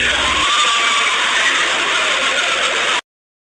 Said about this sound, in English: It's the sound of masses of people screaming in torment.